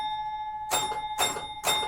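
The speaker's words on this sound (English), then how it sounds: "It's also a very loud bell system." A pinball machine's loud bell rings three times in quick succession, each strike bright and ringing over a steady electrical hum from the machine.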